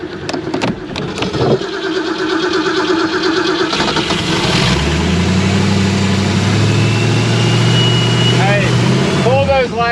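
An old big-block boat engine turns over and settles into a steady, loud idle while people talk over it. Near the end the engine sputters and chokes out.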